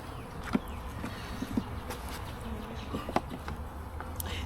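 Honeybees swarming around the entrance of a backyard beehive, a dense steady buzz close to the ear with a few brief louder passes by single bees.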